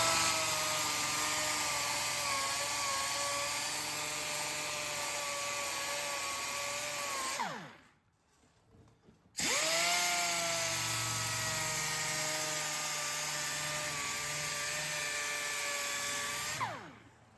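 A rotary polisher with a wool pad and compound works on car paint, its motor whining up to a steady high buzz, winding down into a brief pause, then spinning up again before slowing at the end.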